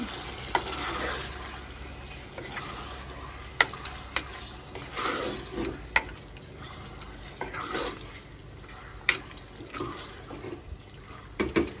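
Half a kilo of mutton is mixed with turmeric in a pot in a village kitchen, giving a steady wet stirring and squelching with scattered sharp scrapes and clicks of the utensil against the pot, close and with no talking.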